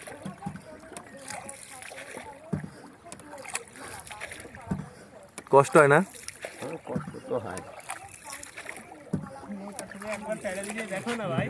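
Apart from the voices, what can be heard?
rowing a wooden boat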